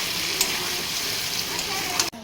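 Food cooking in a pan gives a steady close sizzle and crackle of frying, continuous and fairly loud until it cuts off abruptly near the end, with a voice faintly present.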